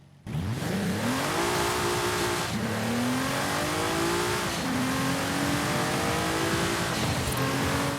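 Stock Nissan R35 GT-R NISMO engine in Forza Horizon 5, loud and close, revving steadily as it climbs through several gear changes with short dips between shifts, with no talking.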